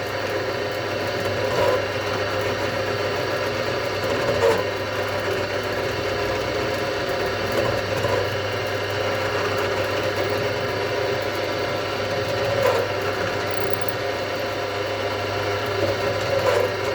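A drill bores string-through holes in a late-'60s-style Stratocaster guitar body, giving a steady, continuous mechanical whir with a faint hum that runs the whole time without pause. No one speaks.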